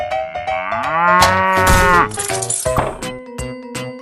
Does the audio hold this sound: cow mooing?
yes